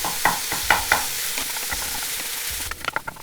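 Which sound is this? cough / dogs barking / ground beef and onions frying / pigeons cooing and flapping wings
ground beef and onions frying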